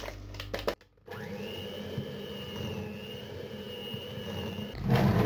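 An electric hand mixer whips butter with brown sugar until fluffy, giving a steady loud whirring drone with a sustained tone. The motor briefly stops near the start, then runs continuously for several seconds, with no voices.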